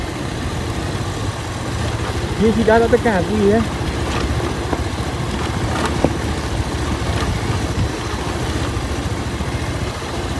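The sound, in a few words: motorcycle engine on an off-road village track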